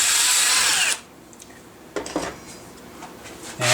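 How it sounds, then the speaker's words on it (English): A loud power drill whines steadily for about a second while drilling out a hole in metal, then stops; light metallic clinks and a brief whir follow before the drill starts again. "I'm going to drill it out."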